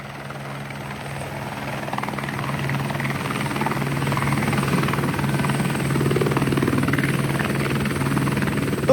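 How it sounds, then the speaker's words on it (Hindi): A private helicopter, a rotary-wing aircraft, drones steadily nearby with a continuous rotor and engine roar that swells slightly, and no talking is heard. "ये जो मेरे पीछे खड़ा है इसको बोलते हैं रोटरी विंग एयरक्राफ्ट"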